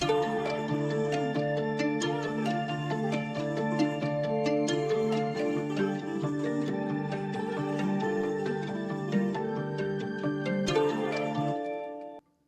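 A looping plucked guitar pattern with sustained string tones carrying a melody behind it, playing steadily before stopping abruptly at the end.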